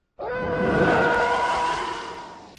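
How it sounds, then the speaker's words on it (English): TIE Fighter engine from the Star Wars Squadrons video game, a single close, loud screaming whoosh that swells in and holds as a tonal howl before easing off. "The noise of the TIE Fighter engine was created by combining the sound of an elephant scream and the noise of a car driving on a wet road."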